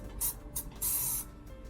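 Close, crisp hisses from a spray bottle misting water onto hair braided in cornrows, three separate squirts with the last one held longer, heard alone.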